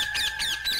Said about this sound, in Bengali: পাখিগুলো এত ডাকছে কেন রে?